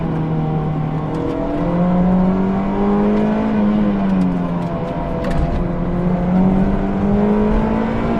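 A Mazda MX-5 is driven hard through canyon corners, its engine droning loud and close with rising and falling revs as the driver works through gears between bends.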